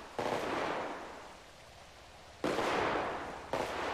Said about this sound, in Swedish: Det skottlossning mot hunden.